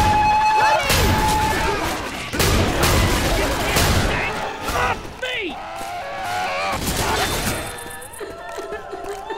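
Video game gunfire in a modded scientist slaughterhouse level, loud bursts of rapid shots and impacts in clustered volleys with crashing debris, separated by short lulls, a voice shouting amid the fire.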